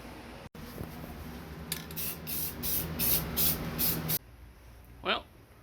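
Aerosol spray paint hissing onto small drilled, countersunk metal pull-up bar brackets in a home shop, several short bursts in a row near the mic, then a quieter stretch with one brief hiss.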